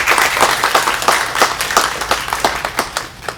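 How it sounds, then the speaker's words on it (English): Audience applause fills a school NJHS induction ceremony, steady rapid clapping from many hands with no voices over it, holding at an even level throughout. "Please join me in thanking them with a round of applause."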